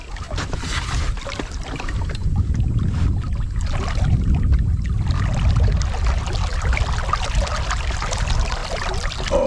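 A Walker Bay 8 small sailboat cruises through water with a continuous rushing wash and low rumble of water and wind against the hull, close and steady, without talk.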